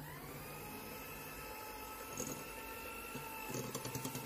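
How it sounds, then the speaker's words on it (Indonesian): Electric hand mixer whirring steadily at low speed through cake batter, a continuous even motorized hum with faint tonal whine, a few light knocks near the end, quiet and close with no talk. "Dan ini di mixer kembali dengan kecepatan yang rendah saja"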